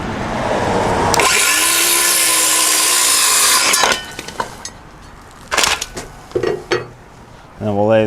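A saw bites through a rough-cut lumber board for a rustic barn door, a loud, close, continuous cutting whine for about three seconds, then scattered knocks and handling noises and a short voice at the end.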